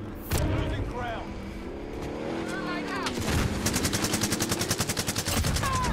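Gunfire and sniper shots in the shooter game Call of Duty Warzone, a busy run of shots building into a rapid, loud automatic burst near the end, with a vehicle hum beneath and voices talking over it.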